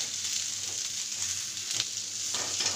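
Potatoes for dosa filling sizzle steadily in a hot pan with a soft, even frying hiss and occasional faint stirring scrapes, no voices over it.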